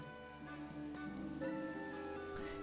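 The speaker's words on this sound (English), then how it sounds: "10-hour-long loop of Skyrim music with rain ambient sounds." Soft steady rain patters on a surface beneath a calm fantasy game music loop from Skyrim, the melody's sustained tones sitting over a faint continuous hiss of rainfall, quiet throughout.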